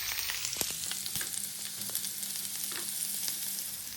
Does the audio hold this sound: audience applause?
no